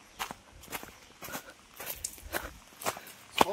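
Footsteps walk along a forest trail near Ghatshila, Jharkhand: close, irregular crunching steps at a steady walking pace, with no other sound over them.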